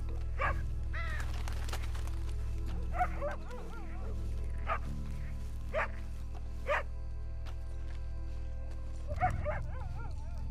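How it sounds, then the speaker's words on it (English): Repeated dog barks ring out in Red Dead Redemption 2, several loud, separate woofs spaced a second or two apart over a droning low background, fairly close and clear. "Is that a dog?"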